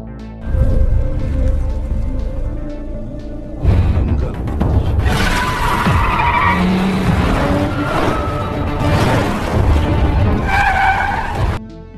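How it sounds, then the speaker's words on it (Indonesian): Cars in a chase roar and skid, with tires squealing repeatedly through loud, continuous engine noise and screeching bursts that rise and fall over twelve seconds. "Hingga aksi kejar-kejaran mobil tak dapat lagi dihindari."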